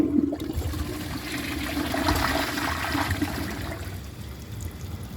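A 1994 Kohler Wellworth Lite toilet flushes in one steady, close rush of swirling water that slowly fades toward a trickle, with no talking.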